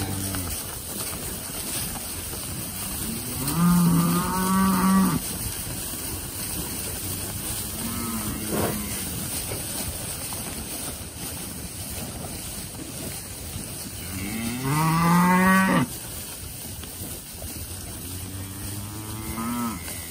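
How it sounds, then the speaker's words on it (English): Hereford cattle mooing outdoors on a farm, two long, loud, deep moos several seconds apart over steady wind noise. "take Betty, a couple other of these cows to the other farm."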